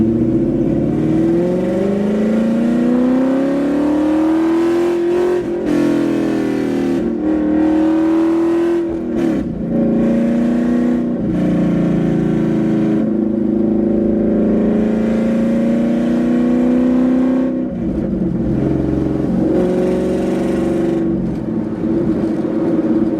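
Car engine pulling hard in third gear on regular street tires, a loud sustained rising drone with revs climbing and dipping through repeated throttle bursts, close and continuous with no talking.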